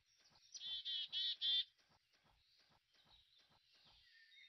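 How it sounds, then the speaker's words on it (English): A bird in the video game Elinor Wonders Why gives a quick series of four bright chirps, then softer chirps over light rhythmic tapping, fairly close and quiet. "Ooh, we found a bird."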